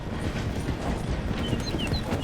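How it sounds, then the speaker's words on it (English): A train rolling slowly through a station in Red Dead Redemption 2, a steady rumbling clatter of wheels on rails with faint high squeals, continuous and fairly loud. "The train is slowing down to go through the station."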